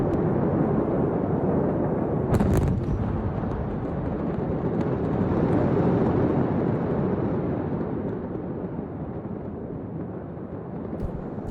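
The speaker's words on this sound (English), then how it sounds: "That was the fireworks, that first rumble." Deep, far-off fireworks rumbling swells and fades over background noise, with a brief crackling burst near the start.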